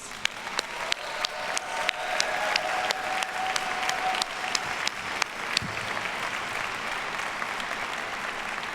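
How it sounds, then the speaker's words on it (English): A graduation audience at a Duke executive MBA ceremony gives a sustained round of applause, dense even clapping with a few sharper nearby claps, continuing alone without speech. "please join me in saying thank you to your supporters with a round of applause"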